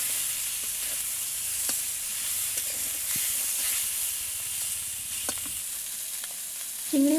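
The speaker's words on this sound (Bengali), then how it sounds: "হালকা আঁচে 2 থেকে 3 মিনিট চিংড়ি মাছগুলো ভেজে নেব।" Shrimp fry gently over low heat in oil in a wok, giving an even, hissing sizzle with occasional soft pops, close up and without speech; a brief tonal sound cuts in at the very end.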